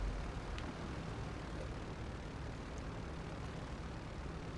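Steady droning roar of C-130 aircraft engines idling before takeoff in the video game GTA 5, a continuous dense wash of engine noise with no distinct pauses, moderately loud and even throughout.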